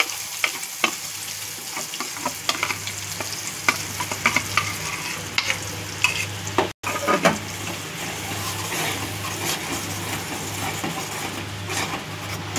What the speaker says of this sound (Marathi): त्याच्यानंतर जे आपण वाटण केलं मिरची खोबऱ्याचा ते मस्तपैकी तेलात भाजून घेऊया